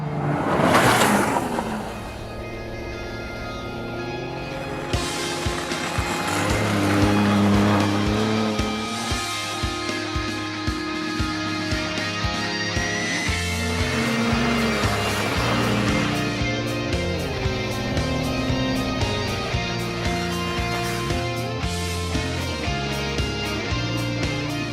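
A 2017 Ford F-150 Raptor pickup drives across a frozen lake, its engine revving and droning steadily with rising and falling pitch and some tire noise, loud and close throughout.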